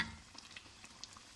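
Tadka tempering oil for masoor dal sizzling softly in a pan, a faint steady crackle with scattered small pops and stirring, no voices.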